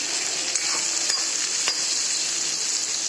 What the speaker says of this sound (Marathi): आता कांदे चांगले भाजू देते